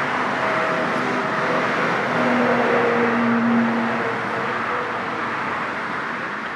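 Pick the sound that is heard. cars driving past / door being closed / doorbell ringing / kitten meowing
cars driving past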